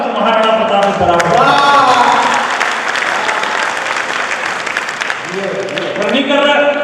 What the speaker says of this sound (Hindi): तालियां बड़ी बड़ी देखना चाहता हूँ इस बार